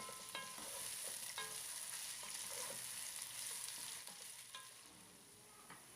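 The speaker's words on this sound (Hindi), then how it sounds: "प्याज को हम गोल्डन ब्राउन होने तक फ्राई करेंगे।" Thinly sliced onions frying in oil until golden brown, a faint, even sizzle with occasional stirring scrapes in the pan, and no voices.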